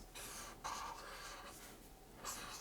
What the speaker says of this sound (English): This is how you write the word house.